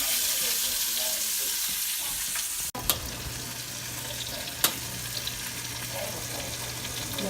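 T-bone steak sizzling and frying in a hot pan, a steady dense crackle throughout with a couple of sharp clicks or knocks, no talking.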